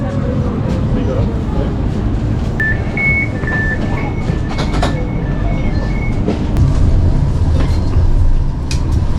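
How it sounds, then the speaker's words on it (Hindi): A tram rolls through rainy Lisbon with a steady low rumble and faint rail clatter, brief high tones ringing out midway, as a person talks over it. "ट्राम है जो मुझे वहाँ तक लेके जाएगी।"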